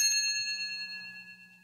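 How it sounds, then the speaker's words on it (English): A bright bell ding from a vintage Muppets read-along record signals the page turn, one clear struck tone ringing with layered overtones and slowly fading over a faint low hum. "turn the page whenever you hear this bell"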